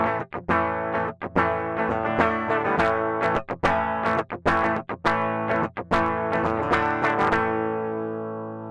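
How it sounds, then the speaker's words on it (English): Electric guitar played with hard, heavy picking through distortion over a Lekato WS-50 wireless system, sustained notes broken by sharp attack cuts, loud and close. "there is this sort of distortion in the picking because the really hard pick is basically cuts"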